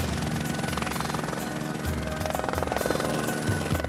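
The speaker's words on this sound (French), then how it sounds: "le blessé sera évacué par l'hélicoptère privé de la station" Private rescue helicopter at the Les Deux Alpes ski resort, arriving to evacuate an injured skier; loud, close, steady rotor thumping and turbine whine with no talk.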